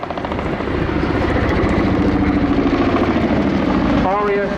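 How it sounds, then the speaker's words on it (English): Chinook helicopter manoeuvring at an armed forces day air display in Cleethorpes, a loud throbbing rotor beat under a continuous commentator's voice. "It's manoeuvres like this that have been used in combat zones over the past 35 years, and the Chinook force continues to carry out UK defence missions"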